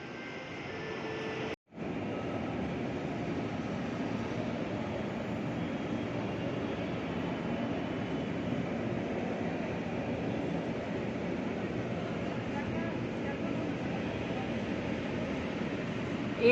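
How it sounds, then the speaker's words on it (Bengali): A metro train at a station in Dhaka gives a continuous low rumble, soft and somewhat distant, holding steady throughout after a brief dropout near the start. "এইমাত্র একটা মেট্রো চলে গেল মতিঝিল"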